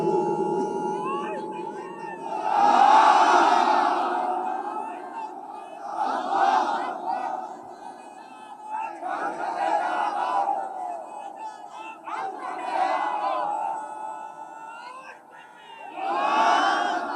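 A large crowd at a religious mahfil in Satkhira shouts takbir in repeated loud massed call-and-response waves, each swelling and fading, with a voice leading between the shouts.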